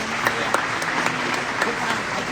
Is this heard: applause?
yes